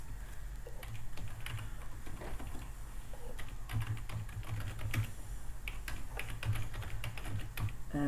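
Steady, soft typing on a computer keyboard while writing programming code, continuous quiet key clicks with no talking.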